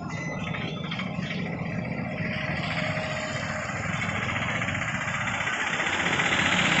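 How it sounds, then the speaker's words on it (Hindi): Bridge construction work at Moti Jheel lake in Motihari, Bihar, a continuous rattling, engine-like machinery drone that holds steady and grows slightly louder, heard alone outdoors. "अभी मोती झील के ब्रिज का काम, कंस्ट्रक्शन का काम अभी चल रहा है।"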